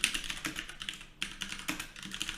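Fast typing on a computer keyboard, a dense run of close, crisp key clicks with a brief pause in the middle and no talking.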